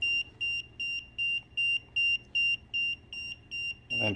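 An EMF detector sounds its alarm at maximum reading, giving about nine loud, evenly spaced high-pitched beeps in a steady rhythm, close by and alone.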